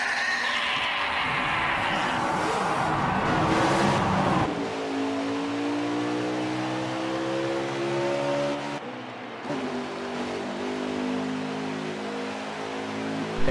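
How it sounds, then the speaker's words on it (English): Race car engines start and rev at the Homestead-Miami track in a NASCAR-style racing video game, a loud layered drone with rising and falling pitch from several engines, steady throughout with a brief dip near the end. "Gentlemen, start your engine!"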